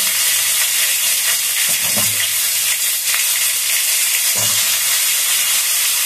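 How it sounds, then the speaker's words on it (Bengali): Cauliflower pieces fry in hot oil with a loud steady hissing sizzle throughout, with a couple of brief clunks as the pan is handled, and no voices are heard. "তেলের মধ্যে কপিটা দিয়ে দিচ্ছি, তেল আছে ওর মধ্যে।"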